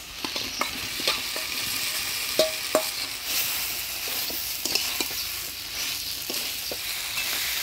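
Fried soybean chunks and potatoes are tossed into a spice paste in the pan, raising a steady close sizzle broken by several sharp scrapes and clinks of a spoon against the pot.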